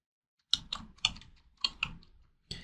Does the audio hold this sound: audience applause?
no